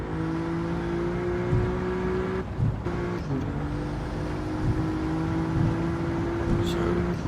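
A car engine drones steadily through a lap in a racing video game, with tonal hum shifting as gears change, close and continuous with brief dips and small revs.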